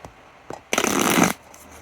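A brief riffling shuffle of oracle cards, close and crisp, with a quick tap before a dense papery burst lasting about half a second, then quiet.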